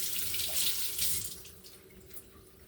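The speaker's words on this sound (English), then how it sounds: "Wash, rinse your vegetable properly." Vegetables are rinsed under a running kitchen tap, a close, bright gush of water that splashes and shifts as the food moves, easing slightly toward the end.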